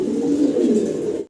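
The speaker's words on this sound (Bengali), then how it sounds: "মাত্র 2500 টাকা এই রানিং পেয়ারটা ভাই আপনাদেরকে দিচ্ছে।" A running pair of pigeons at a farm coos in one continuous low, throaty phrase, close and loud, alone without talk before stopping abruptly.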